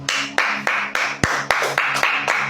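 Church congregation clapping in unison to praise, a steady rhythm of about three loud claps per second, close and full, with no voices over it.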